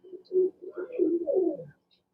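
A pigeon coos close by in a soft, rolling series of low, throaty notes lasting under two seconds, followed by silence.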